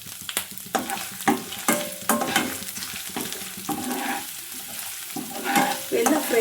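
Finely chopped garlic frying with ginger in a pan for palak paneer, a soft sizzle broken by frequent close scraping and tapping of a spoon as it is stirred.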